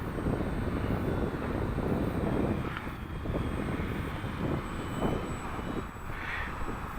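A SuperEZ model airplane makes a low pass in moderate wind, its engine a steady loud drone throughout, mixed with wind buffeting on the microphone.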